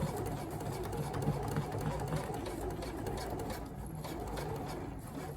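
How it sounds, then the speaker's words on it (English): A sewing machine stitches the waist seam of men's slacks, giving a steady, continuous motor whir and rapid needle chatter that runs without pause throughout. "So I'm sewing directly on that same line."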